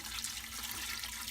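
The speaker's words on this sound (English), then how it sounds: "we're going to add our steeped tea" Warm steeped tea pours into a jar for homemade kombucha, a steady close splashing of liquid filling the vessel, continuous and fairly loud throughout the short moment.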